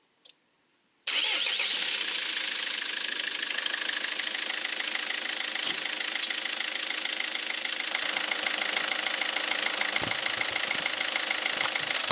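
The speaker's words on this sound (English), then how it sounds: "Start the engine." Car engine cranking and catching after a timing belt and coolant pump replacement, a brief click, then a quick start into a steady loud idle that continues evenly.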